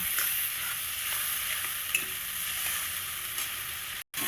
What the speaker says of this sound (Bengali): এই মশলাটাকে আমি খুব সুন্দর করে কষিয়ে নেব।